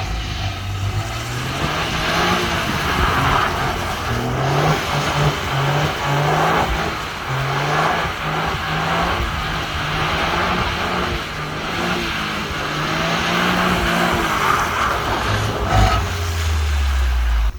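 Toyota GR Yaris engine revving hard while drifting, with a steady, loud engine note that climbs and dips through repeated throttle blips, heard from close by with road and wind noise underneath.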